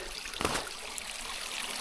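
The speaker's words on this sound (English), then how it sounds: "water that's running underneath the trail" Water runs underneath a snowy hiking trail in winter, a faint steady trickle with a few soft crunching steps, no talking.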